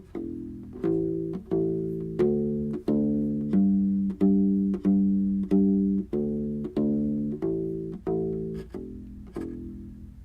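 Open strings on a U-Bass are plucked by alternating index and middle fingers, giving even, deep round notes in a slow, steady pulse. They are played close up with no voice.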